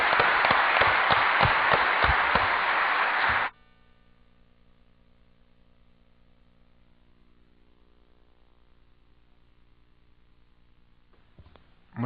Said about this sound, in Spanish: los recibiremos con un buen aplauso a Jorge.